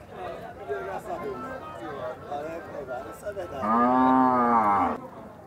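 Crowd chatter and voices at an outdoor cattle fair in Campina Grande, Brazil, then a loud, long cow moo rises close by near the end.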